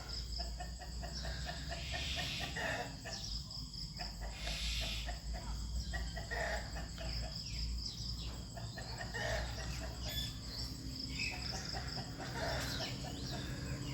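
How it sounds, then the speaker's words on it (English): A big rooster clucking among village chickens, with repeated short clucks over a steady bed of crickets and insects outdoors, moderately near, no talking. "Big rooster."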